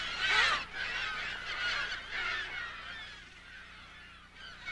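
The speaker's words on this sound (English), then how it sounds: "the piercing cry of gulls breaks the desert stillness" Gulls give piercing, repeated cries over a freshwater inlet at Mono Lake in the desert. The calls come loudest at the start, then continue as a fainter, overlapping chorus that fades toward the end.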